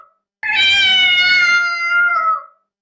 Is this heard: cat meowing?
yes